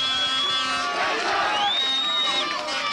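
A rugby league crowd at Keighley versus Warrington cheers and murmurs after a successful kick, a short swell of distant voices and noise under which someone talks.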